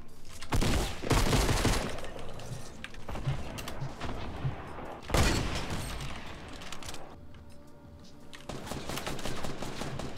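Bursts of gunfire from the video game Fortnite, including shotgun blasts, crack out loud and close in several heavy clusters with short gaps between them.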